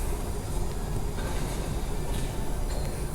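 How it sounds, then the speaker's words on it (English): A Claremont-bound train pulling into the station, a steady dense rumble of wheels and rail noise close by, with no talking. "the Claremont train's actually coming in now."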